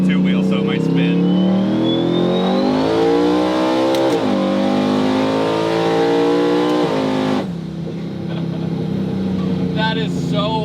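A 1200 hp twin-turbo Cadillac Escalade accelerates hard from a roll, its loud engine climbing steadily in pitch for about seven seconds with turbo whine, then dropping off sharply as it lets off, with people talking over it.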